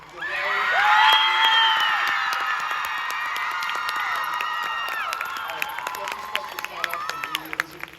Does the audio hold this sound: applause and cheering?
yes